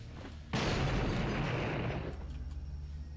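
A TNT blast in the game Blood: Fresh Supply bursts out suddenly, loud and close, then rolls on as a broad rumbling roar that slowly thins over a few seconds, with no talking over it.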